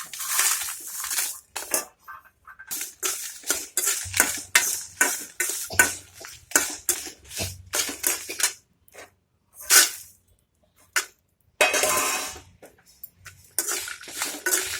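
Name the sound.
dry-roasting red chillies and garlic in a pan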